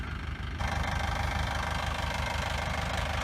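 A tractor engine disking cover crops in a garden gives a steady, close, continuous rumbling drone with a fast knocking pulse. The sound stays unbroken and no one speaks.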